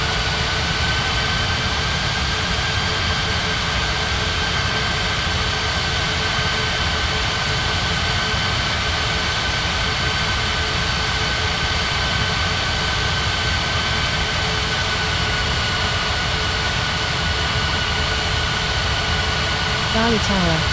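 In an air traffic control game set at Ngurah Rai Bali airport, a jet airliner takes off with a constant, loud broadband engine roar that holds steady for the whole stretch.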